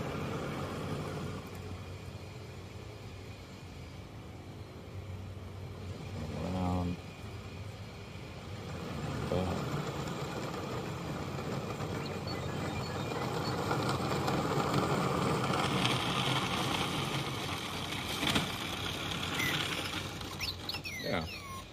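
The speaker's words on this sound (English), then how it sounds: "We let R2 drive." An R2 droid robot drives around under Bluetooth remote control, giving off a steady whirring, rumbling motor noise with occasional mechanical clicks, while people talk nearby.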